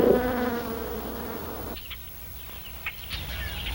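Honeybees buzz loudly at close range for about two seconds, a droning hum that cuts off, leaving faint background hiss and a few soft chirps.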